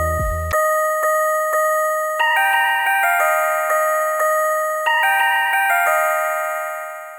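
Glassy, bell-like synth tones from the Fruity LSD plugin's Brightness patch step through a repeating chiming phrase over several seconds. They ring clear and sustained after a short low thump at the start, then fade at the end.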